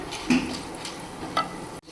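Cumin seeds and curry leaves roast in a pan, giving a soft, close rustle and light sizzle with a couple of stirring scrapes in a brief stretch.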